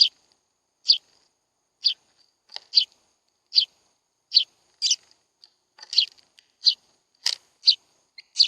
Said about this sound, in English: I'll even put a video in of some birds from in my yard so that you can see them.